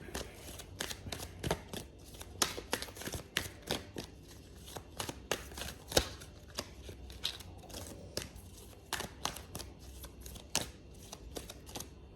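Tarot cards shuffled and drawn by hand, a steady run of crisp riffling snaps and flicks repeating through the whole stretch, close and fairly loud, with no voice over them.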